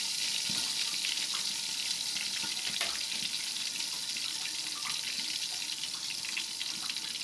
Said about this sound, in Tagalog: Tumatalsik kasi yan mga langga.